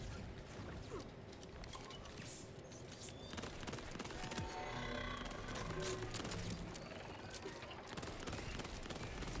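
Enemies blowing up in Borderlands 4, a dense continuous barrage of bursting blasts and crackling gunfire-like impacts that stays loud and busy throughout with no clear gaps.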